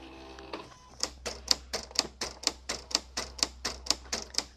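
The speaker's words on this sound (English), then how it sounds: "And right now the blade is adjusting itself." A Silhouette Cameo 3 vinyl cutter setting its blade gives a quick run of about a dozen crisp, evenly spaced mechanical clicks, close and moderately loud after a brief faint whir.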